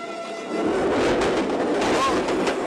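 A fast train rumbles past nearby with a continuous roaring, rattling noise after a quieter start; a brief squeal rises near the end.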